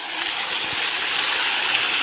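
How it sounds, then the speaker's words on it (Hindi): Water from a small forest waterfall and stream rushes in a steady, close, broadband hiss with no voices over it. "हम लोग पहुँच गए हैं झरना के बीच, झरना के पास पहुँच गए हैं"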